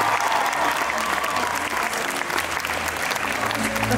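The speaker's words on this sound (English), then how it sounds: "Let's give them a round of applause." A costume-contest audience at the D23 Expo Mousequerade breaks into sustained applause that stays loud and dense for the whole stretch, with a few cheers mixed into the clapping.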